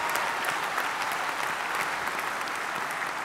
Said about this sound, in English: yes, give him a round of applause, there was nearly one,